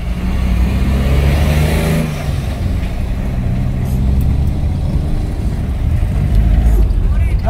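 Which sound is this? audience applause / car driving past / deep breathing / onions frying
car driving past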